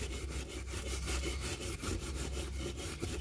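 A brass bristle brush scrubs parts of a Carter BBS 3491S carburetor with carb and choke cleaner, making a close, rhythmic rasping in fast, even back-and-forth strokes, with no talking.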